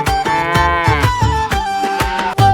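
A cow moos loudly and close, giving drawn-out lowing calls one after another with brief breaks between them, over a rhythmic musical backing.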